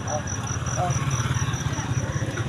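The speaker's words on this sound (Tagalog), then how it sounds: "Ito yung motor namin" A motorcycle engine idling nearby with a steady pulsing throb and a faint high whine, running under the muffled sound of people talking.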